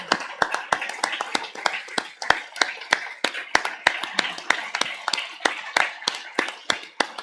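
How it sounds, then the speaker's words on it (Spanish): Steady rhythmic clapping from a modest audience honouring the organizers of a refugee-day talk, loud, close and evenly paced, with a faint voice or two underneath. "aplauso para los que organizan esto"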